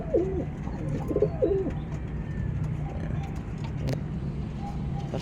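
Pigeons coo softly in a few repeated, throaty calls early on, set against a low, steady background rumble.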